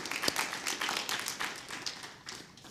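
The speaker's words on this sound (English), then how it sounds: "I just want to thank our panel and maybe give them a round of applause" Audience at a tax-administration conference session applauds the panel, a scattered but steady run of distinct hand claps at moderate volume that gradually thins toward the close.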